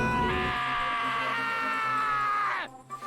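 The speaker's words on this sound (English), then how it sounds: "Hey, I heard screaming." A loud, sustained scream from a character in the murder-mystery video game Danganronpa: Trigger Happy Havoc rises in pitch, holds for over two seconds, then drops abruptly and cuts off into near silence.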